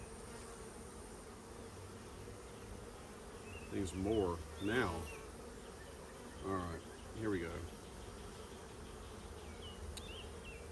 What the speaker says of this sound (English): These bees are in there chasing small hive beetles.